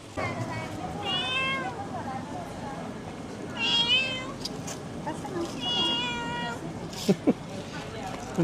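A cat meows several times, drawn-out and whiny, near and clear, with a couple of sharp knocks near the end, around Fenghuang.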